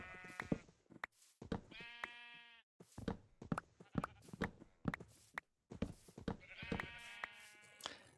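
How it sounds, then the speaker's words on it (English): Video-game sheep bleat repeatedly in a herd, sharp wavering baas overlapping one another, mixed with short knocks and clicks of in-game movement. All of it sounds fairly close and clear. "I've got a ton of sheep everywhere that I need to corral"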